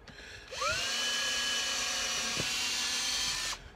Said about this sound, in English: that's why I've changed to the Ryobi drill